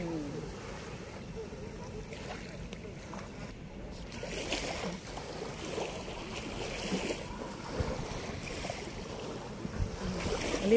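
Sea waves wash against the shore behind hotels at Subic seaport, under steady wind noise, with faint murmuring voices nearby.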